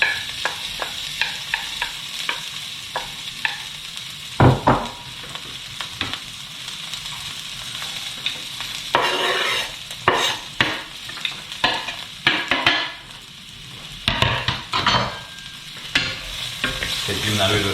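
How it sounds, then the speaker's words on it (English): Chili, tomato and garlic fry in a hot pan for crab linguine, a steady close sizzle broken by repeated scraping stirs, with several louder bursts of spatula movement toward the end. "the chili, tomato and garlic is going into the pan"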